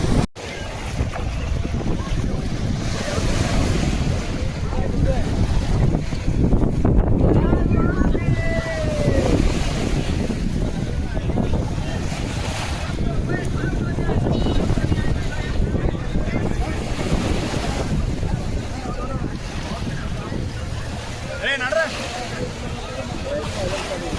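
Sea waves wash against the shore at Agnitheertham ghat during bathing, a steady full roar of surf mixed with wind rumble throughout, with voices occasionally audible beneath it.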